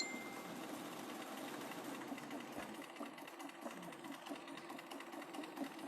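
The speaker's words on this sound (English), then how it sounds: "I'm going to set this under my machine and sew it my 1/4 of an inch." Sewing machine stitching a quarter-inch seam through fabric, a steady fast mechanical whir with a fine rapid needle pulse, close and fairly quiet, with no talking.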